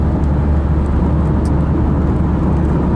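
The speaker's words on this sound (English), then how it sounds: "Rather more traffic here than we see in Azay-le-Ferron." Road traffic on the A13 in South Essex on a slightly misty morning, a steady, unbroken low rumble of passing vehicles with no voices.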